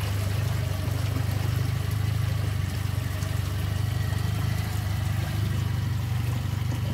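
A boat's engine runs steadily on a marine research trip off Fukushima, a loud continuous low hum and rumble with no pauses and no talk.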